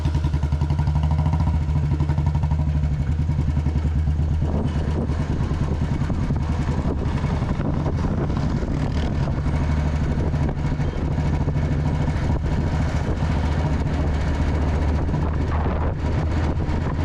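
A Royal Enfield Bullet engine drones steadily while engine braking downhill at about 50, a continuous mid-pitched rumble with no talking, the tone shifting slightly as it holds speed.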